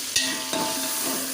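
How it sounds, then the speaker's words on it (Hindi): Tomatoes being fried down in a pot for Peshawari chana pulao, a steady close hiss of sizzling oil with a couple of brief stirring knocks near the start. "अब हम टमाटरों को अच्छी तरह उसको गलने तक, उसका छिलका उतरने तक, पेस्ट बनने तक भूनेंगे"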